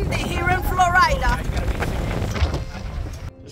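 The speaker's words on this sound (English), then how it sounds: "Oh, it's very windy here in Florida." Strong wind buffets a microphone outdoors in Florida, rumbling loudly throughout under a person talking.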